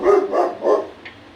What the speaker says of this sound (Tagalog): pagpasensyahan nyo na guys, at tumahol si Donut